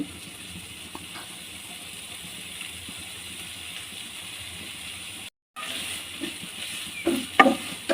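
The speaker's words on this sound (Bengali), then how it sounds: "ভালো মতো ভেজে নেব" Small dried shrimp fry in a pan with garlic and ginger paste for a banana flower curry, giving a steady low sizzle that breaks off briefly and then returns, with a few sharper crackles near the end.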